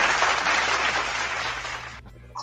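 A clapping applause sound effect plays on a live stream, a dense, continuous wash of claps for about two seconds that cuts off abruptly into near silence.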